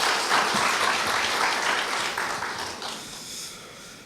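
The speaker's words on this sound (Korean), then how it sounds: "따뜻한 박수로 염재호 총장님을 맞이하여 주시기 바랍니다" An audience at a Korea University staff retirement ceremony applauds warmly to welcome the university president, a dense burst of clapping that holds steady and then gradually fades.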